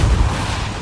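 Depulso force spell in Hogwarts Legacy, a single short, loud, bass-heavy blast that hits at once and decays into a rumbling whoosh within a second.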